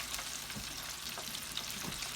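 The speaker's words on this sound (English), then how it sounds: "That's all it is about frying fish" Steady crackling sizzle of fish frying in hot oil in a fryer basket, with scattered pops and bursts over a constant hiss, close by and with no voices.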